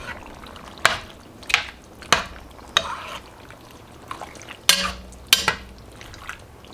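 A spoon scraping and knocking in a pot of black bean chicken chili, about ten sharp clinks and scrapes in an irregular rhythm, close and moderately loud with no talking.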